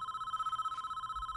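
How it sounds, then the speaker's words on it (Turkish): A telephone rings in the prison management game Prison Architect, a steady trilling electronic ring pulsing rapidly and evenly at moderate volume, with no talking over it. "müdürün telefonu çaldı"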